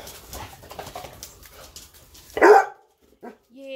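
Eight-week-old basset hound puppies give one loud, sharp bark after some quieter background voice and movement, followed by a short yelp and a rising whine.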